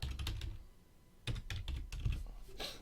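Typing on a computer keyboard, a quick close burst of key clicks, a brief pause, then another run of uneven clattering keystrokes, fairly quiet with no talking.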